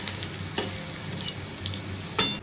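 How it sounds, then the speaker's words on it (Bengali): Potatoes fry in oil for a fish curry with a steady close sizzle, punctuated by a few sharp clicks as they are stirred in the pan. "সেই জন্য একটু আলু ভেজে নিচ্ছি, মাছের ঝোলে দেবো।"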